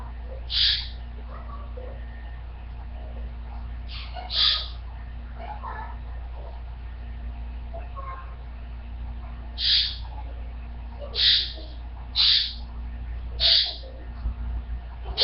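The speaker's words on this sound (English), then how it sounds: "He is a Sun Conure." A pet Sun Conure parrot gives short, piercing calls indoors, about seven separate squawks spaced irregularly over a steady low background hum, fairly loud and close, with no clear talking.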